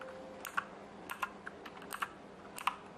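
Keys clack on an IXCC X7000 mechanical keyboard in a short typing burst, crisp irregular clicks in small clusters, close and fairly quiet over a faint hum, with no talking.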